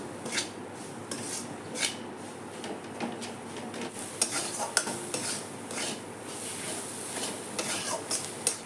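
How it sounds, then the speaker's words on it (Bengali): Spices and Kashmiri red chili powder are sautéed in a pan while a spatula scrapes and clinks against the metal in repeated strokes over a soft sizzle, close and fairly loud. "আর দিব কাশ্মীরি লাল লঙ্কার গুঁড়া ভালো করে কষাবো"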